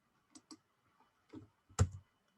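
Several separate clicks of a computer keyboard as a number is typed, irregularly spaced and fairly close, ending with one sharper, louder keystroke in a quiet room.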